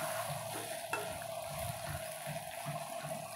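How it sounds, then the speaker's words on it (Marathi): Stuffed eggplants are stirred in hot oil in a pan, giving a soft, steady sizzle with intermittent scraping strokes and a small clink, fairly quiet and close, with no talking. "असं हे हलवून घ्यायचं आहे छानपैकी तेलामध्ये"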